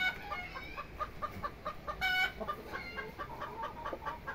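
Chickens in a henhouse where breeding hens and roosters are kept, clucking steadily with repeated short calls, one louder squawk standing out midway, close and fairly quiet against a faint background.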